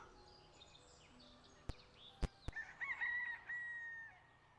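A chicken in the point-and-click adventure game Gobliins 2 squawks in a short burst of clucking cries, preceded by a few sharp clicks, over faint background game sounds.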